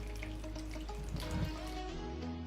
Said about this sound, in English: I'm adding real water here.